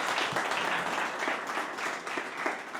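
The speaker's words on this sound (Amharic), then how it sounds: "ለእነርሱ ክብር እስቲ አንዴ ጭብጨባ" An audience applauds in honour of doctors at a Doctors' Day event in Ethiopia, a steady wash of many hands clapping, even and sustained, filling the room with no speech over it.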